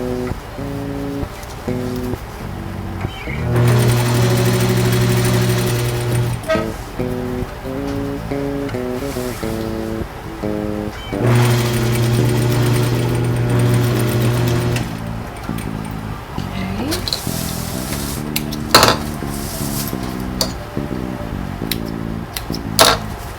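A sewing machine stitches a corset back on a wedding gown being converted from a zipper, in two long humming runs with pauses, clicks and fabric handling between them.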